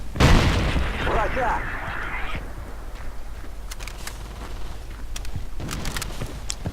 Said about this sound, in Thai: ฟังระเบิดมาแล้วหนีสิ